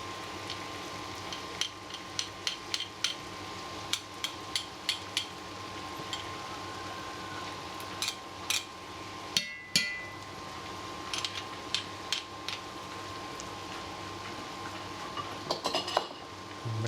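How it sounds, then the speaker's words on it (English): Garlic cloves crushed into a pot of potato soup, giving a run of sharp metallic clinks and taps of a utensil against the pan, fairly close, over a steady low kitchen hum. "This is where the garlic goes in. You're crushing it. 3 cloves of garlic"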